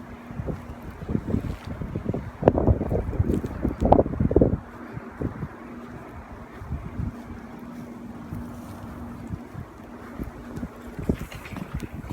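Strong wind in a winter snowstorm blowing outdoors: gusty rumbling buffets and microphone wind noise, heaviest in a burst near the middle, over a faint steady hum.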